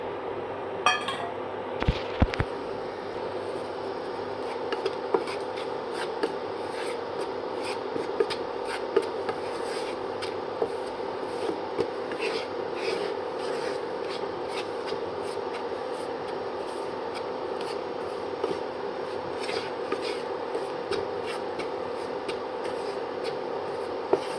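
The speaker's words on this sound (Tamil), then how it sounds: "இப்போ ராகி மாவை போட்டு நல்லா வறுத்துடலாம்" Ragi flour roasted in ghee in a pan, heard as a spatula scraping and stirring with light rubbing and scattered metallic clinks, close and steady over a quiet background.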